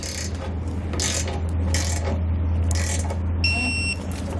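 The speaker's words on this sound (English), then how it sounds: "We'll torque everything down to spec." A torque wrench ratchets in short, sharp bursts as base plate bolts are tightened on a 2017 vehicle's frame, close and clear against a steady low hum, ending in a brief high-pitched electronic tone.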